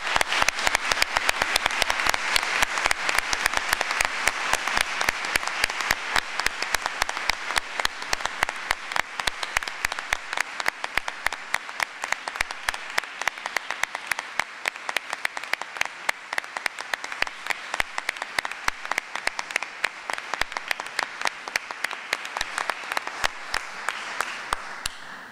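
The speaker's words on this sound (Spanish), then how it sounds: "que el aplauso más fuerte de esta noche, por favor," A concert audience gives the municipal music band a long, sustained round of applause, many hands clapping in a dense, crisp, steady patter throughout, with no talk over it.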